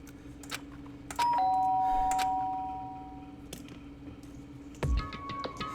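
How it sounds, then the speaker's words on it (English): Doorbell chime in the video game Danganronpa Trigger Happy Havoc, a clear two-tone ding-dong ringing out and slowly fading, followed by a second brighter chime near the end over faint background game sounds. "did I hear the doorbell?"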